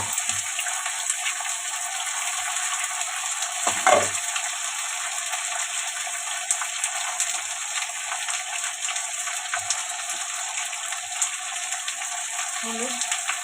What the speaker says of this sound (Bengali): দেখো কচুটা ভাজা ভাজা হয়ে গেছে, মশলাটা দিয়ে দেবো